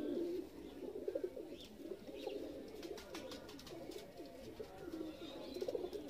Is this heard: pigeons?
yes